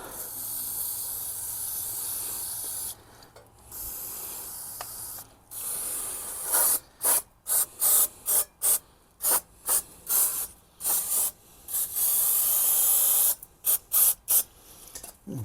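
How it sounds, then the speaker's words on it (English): Brake cleaner is sprayed onto the rear brakes of a VW Crafter or Mercedes Sprinter van, first in longer hissing blasts, then in a rapid series of short, loud bursts with brief gaps between them, close to the mic. "give it some spray with some brake cleaner, just clean all that out"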